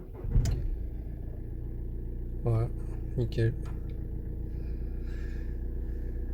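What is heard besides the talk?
VW Tiguan 2.0 TDI diesel engine starting and idling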